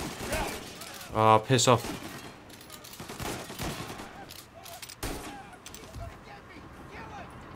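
Gunfire rattles through a fight in Mafia Definitive Edition, a rapid burst of shots followed by scattered single reports, with a voice muttering over the shooting.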